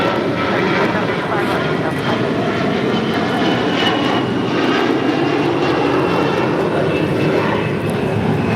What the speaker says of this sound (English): This is American Airlines 1315 taking off to Atlanta, Georgia on an A321.